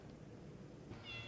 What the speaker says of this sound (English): this random cat is on my back porch